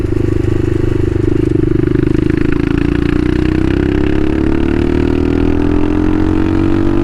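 A Bashan Motomax 250 supermoto motorcycle is ridden at night, its single-cylinder engine droning loud and close. The engine pitch climbs steadily as the bike accelerates.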